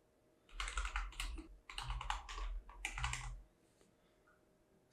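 Fast typing on a computer keyboard in three close bursts of rapid clicking keystrokes separated by short pauses, then quiet.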